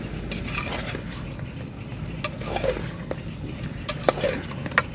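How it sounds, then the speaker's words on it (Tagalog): Adobo being stirred in a cooking pot beside an outdoor fire, with soft scraping and occasional light clinks of a spoon against metal over a low background rumble, close and fairly quiet. "Haluin na lang natin."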